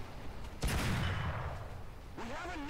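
A single loud boom from a tank gun firing in War Thunder rings out and decays slowly, followed by a faint warbling tone near the end.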